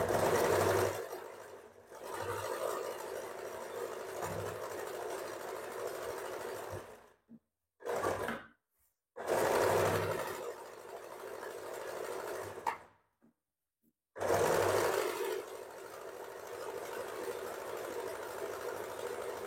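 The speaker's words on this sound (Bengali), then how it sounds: "এবার দেখো এখানেও কিন্তু আমি ভেতরের দিকে ফোল্ড করে আগে মেশিনে সেলাই করছি" A sewing machine runs in long continuous bursts, stitching folded-in fabric of a princess-cut blouse hem, with a steady close whir broken by short stops before it starts again.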